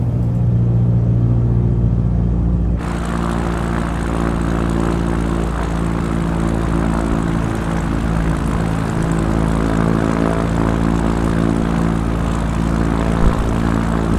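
A propeller aircraft engine in Microsoft Flight Simulator 2020 drones steadily from an outside view, a loud continuous rumbling hum with a buzzing propeller tone that shifts slightly early on, heard alone without talk.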